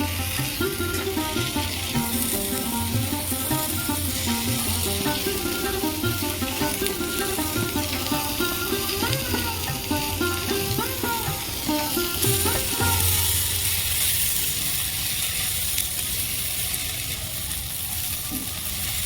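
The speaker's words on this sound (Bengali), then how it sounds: "ভালো করে আমি টমেটো কাঁচা লঙ্কা আলুর সঙ্গে ভেজে নিয়েছি" Tomato, green chili and potatoes frying in a pan for vegetarian ghugni, giving a loud, continuous close-up sizzle with bubbling crackle and occasional stirring clicks.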